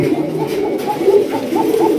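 Pigeons cooing on a pigeon farm, several soft, rolling coos repeating close by over a low background murmur.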